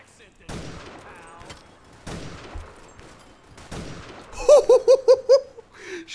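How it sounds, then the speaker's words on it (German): Several sharp gunshots ring out in the video game GTA IV, spaced apart, followed by a quick burst of rapid shots, with a voice speaking between them. "war das für ein geiler Schuss"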